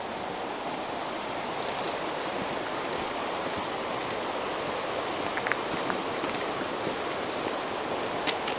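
A river flows under a footbridge on a wooded trail near Książ Castle in Wałbrzych, a steady broadband rush of water that stays even and close throughout, with faint bird chirps above it.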